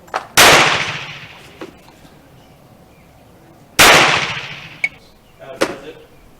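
Model 1916 Berthier rifle fired at a shooting range: two loud, sharp shots spaced a few seconds apart, each with a long decaying echo, followed by fainter metallic clanks of the action being worked.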